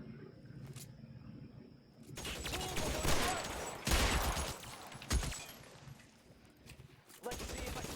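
Gunfire from the L.A. Noire video game, with several loud cracking shots and bursts spread across a noisy exchange, some spaced apart and some clustered, with game ambience between them.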